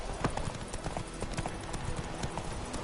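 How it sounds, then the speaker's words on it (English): A horse gallops in The Witcher 3, its hooves beating a fast, steady rhythm at close range over a constant background of game ambience. "Come on, Roach. Faster."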